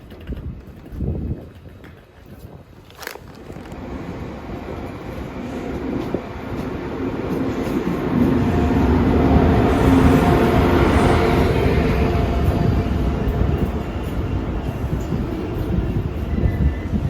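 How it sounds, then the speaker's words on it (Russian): ICE high-speed train pulling into platform 7 at a German station, a rumbling rail roar that builds gradually and stays loud and steady, with wind noise on the microphone and no talking. "Gleis 7 Einfahrt ICE"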